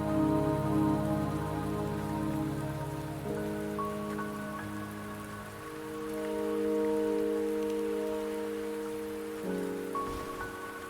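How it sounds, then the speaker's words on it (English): Steady rain falls in a video game scene, a constant soft hiss running throughout beneath sustained musical tones, with no voices heard. "the rain won't last much longer"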